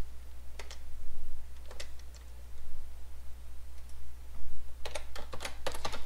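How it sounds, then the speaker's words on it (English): Keys tap on a computer keyboard in short, quick bursts separated by pauses, faint and close against a steady low electrical hum, with a denser flurry of typing near the end. "now I'm going to type a paragraph in my div"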